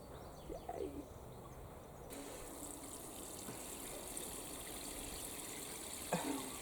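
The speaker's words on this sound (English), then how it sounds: "rainwater in other words, for the blueberries" Rainwater poured onto blueberry plants in a kitchen garden, a faint steady trickle and splash at close range with a couple of small knocks.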